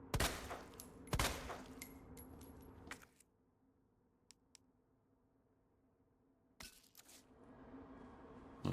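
Gunfire in Resident Evil 2 comes as sharp, loud bursts of several quick shots. A long quiet stretch with a couple of faint clicks separates them from a final volley.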